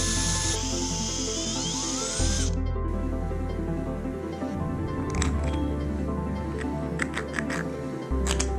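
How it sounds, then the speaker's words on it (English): A power drill with a 1/4 inch bit bores through a plastic cap for a kayak rod holder mount, a loud sustained whirring motor with shifts in pitch and short rattling bursts near the end. "Drill a hole through the cap with a 1/4 inch drill bit."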